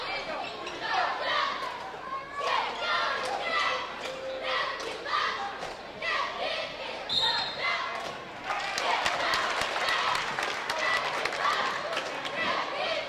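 A 1996 high school boys basketball game in a gym, with ball bounces, squeaking sneakers and a murmuring crowd that swells near the end, while a commentator speaks throughout.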